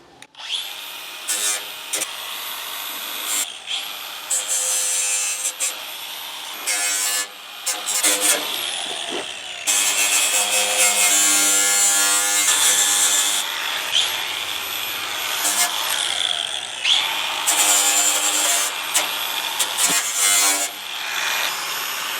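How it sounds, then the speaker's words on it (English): A flap disc grinder smooths burrs and sharp edges from a freshly cut louver opening in a Jeep TJ hood, loud whining passes starting and stopping repeatedly, with abrasive rasping against sheet metal. "I'm going to take the flapper disc and I'm going to go over and get all the burrs and the sharp edges off"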